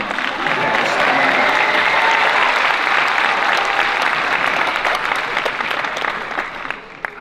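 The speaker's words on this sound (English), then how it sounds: "Are we clapping for the Stanley Cup or the prom?" An audience at a graduation ceremony claps in dense, sustained applause that stays loud for several seconds before thinning toward the end.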